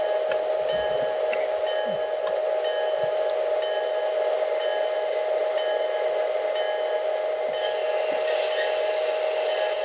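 A locomotive in the Train Simulator 2014 video game slowing down, with a steady loud engine drone, short clanks and a brighter hiss near the end.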